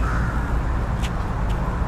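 Crows caw at Wat Pho temple in Bangkok, giving two short, fairly distant calls over a dense, steady wash of background noise.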